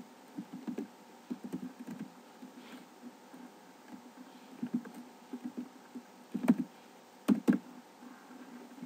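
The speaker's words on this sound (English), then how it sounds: "what I'm going to do now is I'm going to type in the name of the skin" Keys tapped on a computer keyboard while a Minecraft skin name is entered, in short irregular bursts of soft clicks separated by pauses, close and fairly quiet, with no talking.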